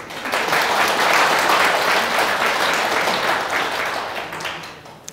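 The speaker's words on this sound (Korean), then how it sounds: "박수." An audience in a lecture hall bursts into loud applause, a dense, continuous roar of clapping that swells early and then gradually tapers off.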